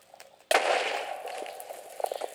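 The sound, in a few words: explosion in the video game Minecraft, like a creeper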